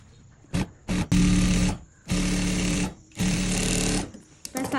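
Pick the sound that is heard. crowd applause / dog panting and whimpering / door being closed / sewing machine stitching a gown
sewing machine stitching a gown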